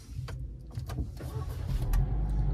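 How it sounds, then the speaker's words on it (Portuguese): Jeep Compass 2025 Overland with a 2.0 turbo engine starting, a brief cranking rattle followed by the engine catching and settling into a steady low idle that grows louder toward the end, heard from inside the car. "apertei aqui, já ligou o carro."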